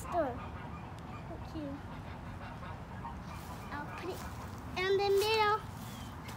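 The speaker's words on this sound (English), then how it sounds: "if you hear that in the background, those are our geese." Geese on a lake honk in the background, a few distant calls before a louder burst of honking near the end, beneath people talking.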